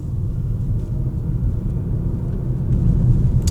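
A 2025 Tesla Model Y Long Range AWD accelerating, a steady low road rumble and tyre drone from inside the cabin, rising slightly toward the end, no talking.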